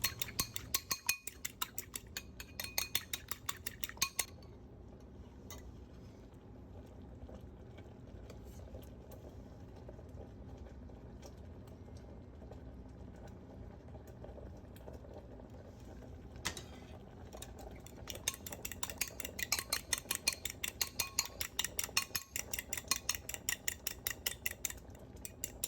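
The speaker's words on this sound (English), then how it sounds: "When adding the egg back to the hot liquid, I'm stirring constantly so that again the sauce doesn't curdle." A utensil stirs tempered egg into a hot moussaka sauce in a pot, making steady rhythmic scraping and clinking against the metal. The stirring stops for a stretch of quieter bubbling in the middle, then resumes.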